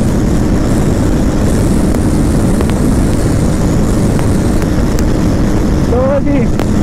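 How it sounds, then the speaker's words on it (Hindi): Hunter 350 and Pulsar RS 200 motorcycles in a drag race at full throttle, a loud, steady broadband engine roar filling the whole stretch with wind noise, close to the rider. "फुल थ्रॉटल कर रखा है, 125 अराउंड चल रही है अभी।"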